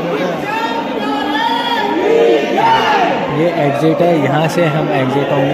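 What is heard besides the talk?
devotees shouting jaikara chants at Khatu Shyam temple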